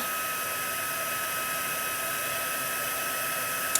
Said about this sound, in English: So the heat gun takes a little while to warm up when you first use it.